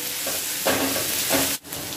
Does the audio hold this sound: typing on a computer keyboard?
no